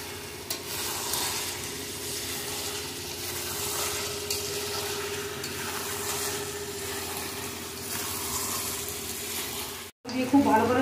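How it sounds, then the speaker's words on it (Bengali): Mutton pieces stir-fried with fried potatoes in an oiled pan at home, giving a steady close sizzle with soft stirring scrapes throughout, a brief drop near the end, then louder clatter. "এখন ভাজা আলুগুলো দিয়ে আরও বেশ কিছুক্ষণ কষাবো"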